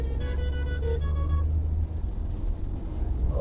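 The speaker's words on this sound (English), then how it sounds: "So accelerating on the highway now." A Tata Nexon XZA+ accelerates on a highway, heard as a steady low engine and road drone from inside the car, with a brief tonal, horn-like note over the first second and a half.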